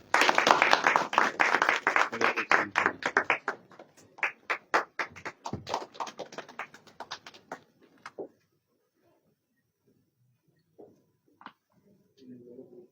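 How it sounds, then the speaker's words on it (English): Officials and guests at an MOU signing ceremony between the Moscow Government and Patanjali Group clap loudly at first; the applause thins into scattered claps and stops about two-thirds of the way through, leaving near silence with a few faint chirps. "A big round of applause."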